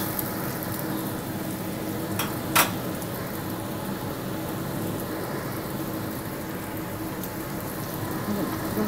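Chilies fry in a pan with garlic, shallots, lemongrass and lime leaves for orek tempe, giving a steady, dense sizzle throughout with a brief clink of a utensil partway through.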